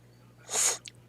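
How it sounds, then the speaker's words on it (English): A single short, close nasal sniff from a person with allergies, a quick breathy intake lasting about half a second in an otherwise quiet room. "Excuse my sniffling. I've had allergy issues for weeks."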